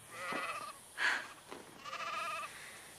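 Several sheep bleat in turn, one call louder and nearer than the others, with short pauses between cries and no talking.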